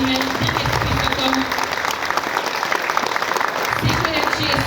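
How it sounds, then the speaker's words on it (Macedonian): Sustained crowd applause fills a festival hall at its opening in the village of Vladimirovo, a dense, steady clapping from a large audience that carries loudly through the whole stretch. "Сакам еден голем аплауз за целиот тим владимирци"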